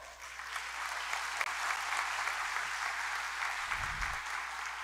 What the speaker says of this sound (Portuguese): vamos reforçar as palmas para vocês,